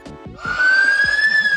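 A police siren rings out loud and close from the speaker of an 8849 Tank 4 smartphone, a short rising wail followed by rapid yelping tones, with no talk over it.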